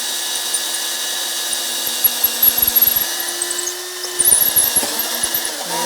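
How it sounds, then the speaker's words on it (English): A power drill drives fasteners into the frame of a Balanced Body Studio Reformer during a tower retrofit, whirring steadily with short, repeated bursts of load near the microphone. "So we can put the drill down for a bit."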